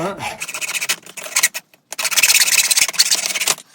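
Rough, rasping strokes of an old saw grinding through wood in quick back-and-forth passes, with a brief pause midway before the harsh sawing resumes.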